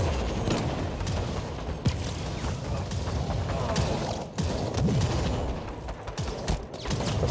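Gunfire in the video game Firefall, a dense run of shots with mechanical clatter and creaks running through a busy game mix, fairly loud and continuous with no talk.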